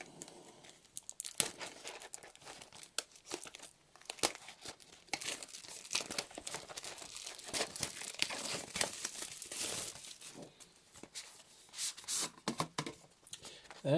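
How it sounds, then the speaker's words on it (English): Cellophane being unwrapped from a Magic the Gathering Amonkhet prerelease box, with close crinkling, crackling and tearing in irregular bursts throughout, no talking. "we'll just open up the cellophane"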